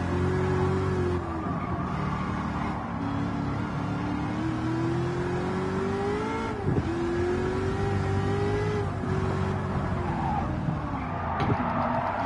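Racing car in Gran Turismo 7, driven hard through a corner with a Fanatec wheel, its engine note holding a steady, loud drone that rises and dips slightly in pitch throughout, with no voices.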